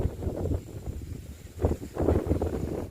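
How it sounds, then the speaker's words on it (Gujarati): Cold wind blowing across a peanut field in the evening, a steady low gusty rush buffeting the microphone, rising and falling without pause. "ઠંડો પવન વાય છે આજે"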